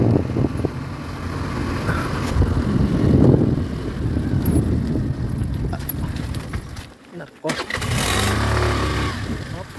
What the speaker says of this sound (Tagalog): Parang hindi na kaya ng motor ko.